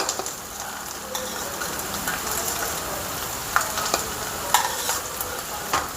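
Corn garelu, Telangana-style maize fritters, frying in hot oil: a steady, close broadband sizzle that holds for the whole stretch, broken by a few sharp scrapes and clinks as they are turned, with no talking.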